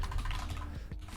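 Rapid typing on a computer keyboard, a dense run of close, clicky keystrokes that thins out toward the end, with no talking.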